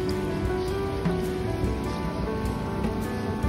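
Steady rain falling outdoors on a scenic lookout, a continuous soft hiss with scattered drop patter throughout.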